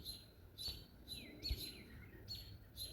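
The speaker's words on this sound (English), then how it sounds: "the smaller birds are really upset right now" Small garden birds chirp in quick, agitated bursts, disturbed by a nearby hawk, the high calls sharp and fairly close over quiet outdoor background.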